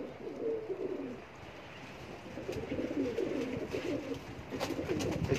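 Fit, fresh racing pigeons give repeated low, throaty coos in overlapping bursts, near and moderately loud, with faint chirps and no voices.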